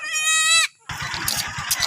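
A goat on a farm in Oriental Mindoro gives a loud, drawn-out bleat, then falls briefly quiet before a rapid series of low thumping steps and clatter follows nearby.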